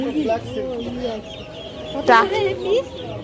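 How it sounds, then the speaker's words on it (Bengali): A Tiger breed fancy hen at a pets market gives a couple of clucking calls, one short early and a louder drawn-out cluck near the middle, heard close against background market chatter. "টাইগার মুরগি"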